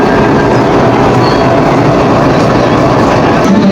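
A train at Jessore railway station rumbles close and loud, a dense, continuous roar of wheels on rails with faint clatter.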